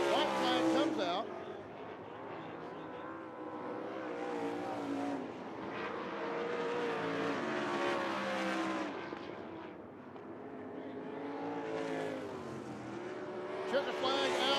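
Race cars roaring down the front straightaway at a racetrack, a loud continuous engine drone that swells and fades as cars pass, with an announcer talking over it throughout.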